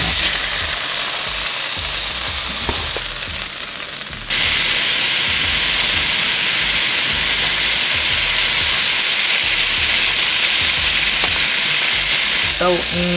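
Chicken for lo mein frying in a pan, giving a dense, continuous loud sizzle that holds for several seconds, with a brief scrape near the end.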